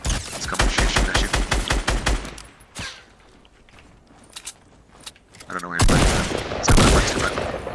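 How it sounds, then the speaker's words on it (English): Rapid bursts of gunfire in Fortnite around Wailing Woods, a fast volley of sharp shots at the start, then a quieter stretch with scattered cracks, followed by another loud dense burst near the end. "Sniper shots northeast in Wailing Woods"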